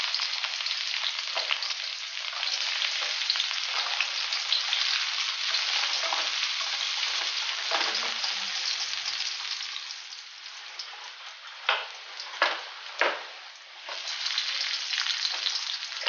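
Garlic sizzling in hot oil in a pan, a loud continuous crackling fry heard up close, with a few sharp spatter pops and stirring clatters toward the end and no talk.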